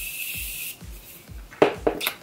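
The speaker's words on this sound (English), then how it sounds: "now I'm just gonna finish off by spraying my face again" Setting spray is misted onto a face during makeup, soft hissing pumps in quick succession with faint rubbing and handling noises nearby, quiet and close with no talking.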